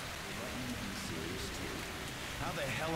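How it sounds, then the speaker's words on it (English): Steady rain falls in the post-apocalyptic shooter Metro Exodus, a constant hiss of drops on surfaces that stays even throughout, faint and distant-sounding with no voices. "Oh, it is raining."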